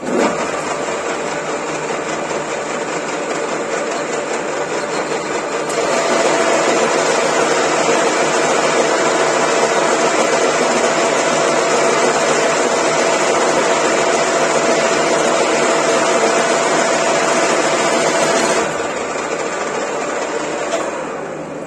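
Metal lathe turning a workpiece with a Chinese cutting insert at lower speed, a continuous whirring motor hum with a steady whine that steps up in level partway through, then drops back near the end, close and loud, no speech.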